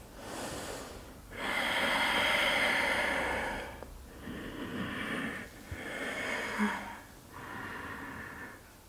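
Deep, slow breaths during a power vinyasa yoga flow, several long airy inhales and exhales in a steady rhythm, close and clear with no talking over them.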